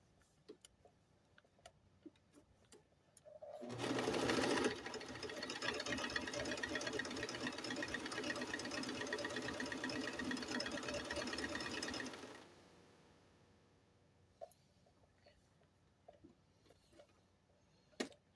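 An electric sewing machine whirs in one continuous burst of about nine seconds, stitching a picot zigzag with a fast, even mechanical rattle, preceded and followed by quiet handling clicks.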